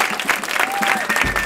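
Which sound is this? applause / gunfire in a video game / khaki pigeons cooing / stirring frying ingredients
applause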